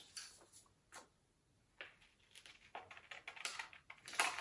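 Scissors cutting out a paper crown piece for a sunburst headdress, giving quiet close snips and crisp paper rustles in irregular bursts that grow busier toward the end.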